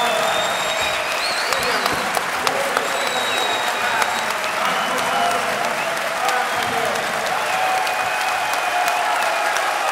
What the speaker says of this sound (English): they need a bit of applause